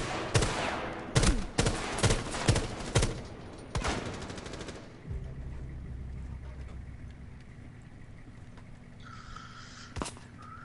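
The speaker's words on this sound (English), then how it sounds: "I'm getting shot at" Video game gunfire with the player under attack: rapid clusters of loud shots crack close by for several seconds, then a quieter stretch with low rumble and one final sharp shot.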